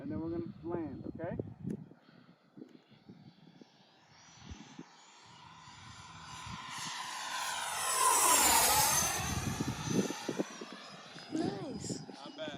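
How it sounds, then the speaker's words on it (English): An RC Freewing F/A-18C Hornet jet makes a full-speed low pass, its whine swelling to a loud Doppler sweep overhead and fading away, with people talking before and after. "I'm going to do one last full speed pass low"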